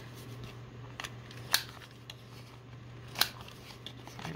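Scissors snip through paper washi tape twice, each a crisp, close cut about a second and a half apart, over a quiet room hum.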